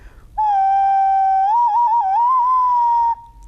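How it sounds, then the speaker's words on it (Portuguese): A small monkey-shaped clay whistle sounds one sustained, clear tone for about three seconds, wavering and warbling slightly in the middle before holding steady. "É um apito isso, né? Isso. Quase funciona como se fosse uma pequena flauta"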